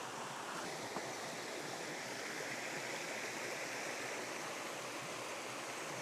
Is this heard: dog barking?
no